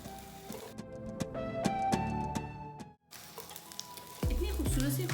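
Small cubed onion pieces frying in a pan for chilli paneer, a steady close sizzle with crackling pops and a brief pause before a lower bubbling hiss resumes, with no talking.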